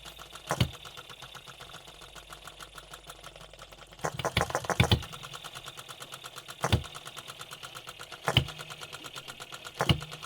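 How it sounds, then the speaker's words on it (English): OKMO B02 hit and miss model engine firing in irregular bursts, a few sharp close pops separated by quiet coasting gaps, with a faint steady whir underneath. "this actually does work as a hit and miss engine"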